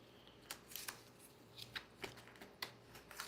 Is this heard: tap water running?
no